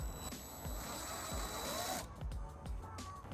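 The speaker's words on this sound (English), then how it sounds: "we're going to use a 3/16 drill bit to drill that out" A power drill with a 3/16-inch bit whines steadily at close range into the bumper of a 2018 Fiat 500c, its pitch shifting and briefly dropping as it bites in, with faint clicks underneath.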